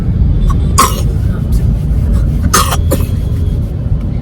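Several sharp coughs ring out at intervals over a low steady background hum, close and fairly loud.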